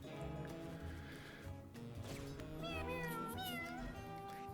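Cartoon cats meow in the Mewgenics video game, several meows and a rising caterwaul layered over steady game music and effects, fairly loud and continuous.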